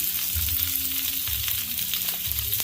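Garlic and vegetables sizzle and fry steadily in a pan for Beijing beef, a continuous close crackle with occasional stirring, no talking.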